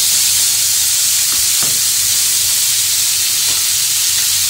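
Quick weight-loss meal frying in a pan, a loud dense hiss and sizzle filling the scene steadily, with a couple of brief soft stirring knocks.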